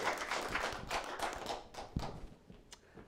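An audience at a small casual music showcase claps for a performer, a scattered, quiet patter of hands with a few sharper slaps, fading over a few seconds.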